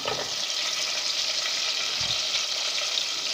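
Potatoes and onions frying in a pan for aloo pyaz sabzi, a steady, even sizzle with a soft stir, continuous and close, with no talking.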